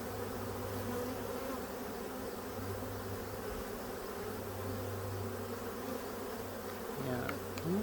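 Honey bees swarming over an open hive during a late-season inspection, a dense continuous buzz close to the microphone with a steady drone throughout and a brief rattle near the end.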